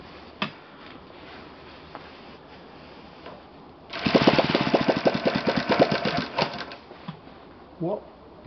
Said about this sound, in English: So, let's start an engine.